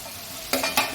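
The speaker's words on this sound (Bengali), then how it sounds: "এর মধ্যে দিয়ে দেবো আমি কপিগুলো" Fried cauliflower stirred into a simmering spice paste of cumin, ginger, dried chili and coriander in a pan for a fish curry: a low sizzle broken by two quick scraping stirs, close and fairly soft.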